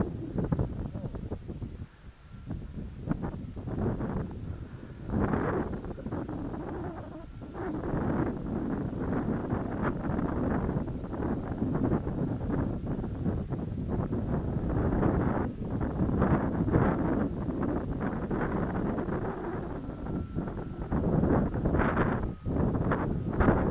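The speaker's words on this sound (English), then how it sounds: "Wind from behind us now." Strong wind buffets the microphone at a model glider flying field on a windy day, a continuous low roar with gusty swells and rustling, and no clear talk.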